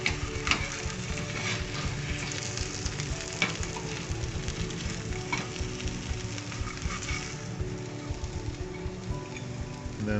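Home fries potatoes crackle and sizzle steadily in a hot pan, a dense continuous frying hiss with occasional louder pops, close up and with no one talking.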